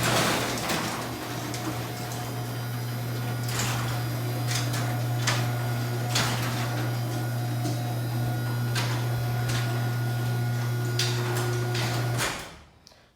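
A Chamberlain C253 garage door opener runs with a steady loud motor hum and rattling chain-drive clatter for about twelve seconds, then stops abruptly.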